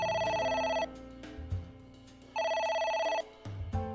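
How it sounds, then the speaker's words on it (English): A phone in the video game AI: The Somnium Files rings in two electronic bursts separated by a pause, sounding over a low musical drone without speech. "It's ringing again."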